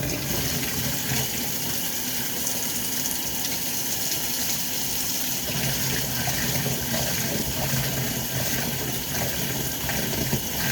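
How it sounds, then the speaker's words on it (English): Tap water gushes steadily into a sink, building soap suds, with a constant loud splashing rush that stays even from start to finish. "Hopefully this water isn't too loud."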